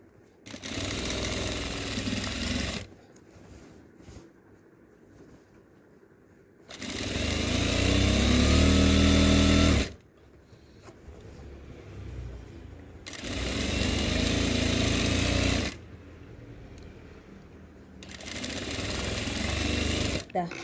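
A sewing machine stitches a frock-style nighty in three long bursts of loud whirring motor noise, separated by quieter pauses with faint handling sounds.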